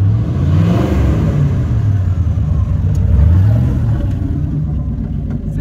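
Ford Galaxie V8 engine revving with a deep loud rumble through the exhaust, rising and falling in pitch over a few seconds, close by and steady, with no talking.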